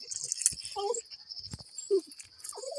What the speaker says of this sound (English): This dog is so happy.